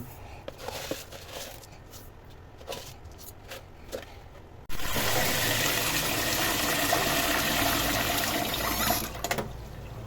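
Rice and mixed lentils are washed for khichuri in a kitchen: faint rustles and clinks at first, then a loud steady rush of running tap water filling the pot for several seconds.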